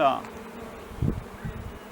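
Honey bees buzzing around a single-box beehive, a steady low hum with brief louder swells near the hive, heard outdoors without any talking.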